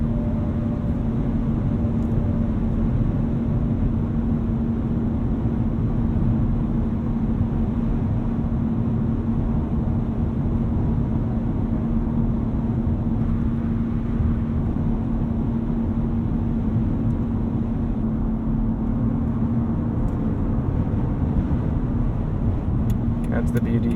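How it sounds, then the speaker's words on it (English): A 2012 Mercedes-Benz S65 AMG with a twin-turbo V12 cruises with a smooth, steady engine and road drone heard from inside the cabin, while someone talks throughout. "That's the beauty of a V12. You just need to breathe on it a little bit to get your torque."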